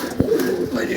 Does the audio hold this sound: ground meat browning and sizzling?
no